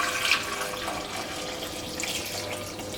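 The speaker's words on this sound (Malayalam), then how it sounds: "ഞാനിവിടെ ഇതേപോലത്തെ നമ്മുടെ നാട്ടിലേക്ക് സാധാരണ ഉപയോഗിക്കുന്ന ഈ സ്റ്റീലിൻ്റെ കപ്പിലാണ് വെള്ളം ചേർക്കുന്നത്." Water poured from a steel cup into a cooking pot while making mango pulissery curry, a short steady splashing trickle at close range with nothing else behind it.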